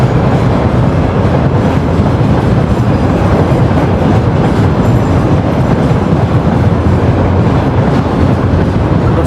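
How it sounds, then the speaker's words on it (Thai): A very long freight train in Russia rumbles past loud and close, its heavy, continuous roar running for the whole stretch with a faint rhythmic clatter of wheels. "รถไฟจะมีอยู่ประมาณ"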